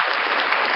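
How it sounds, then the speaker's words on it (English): A short, dense burst of crowd applause, loud and continuous with no gaps between claps. "Round of applause."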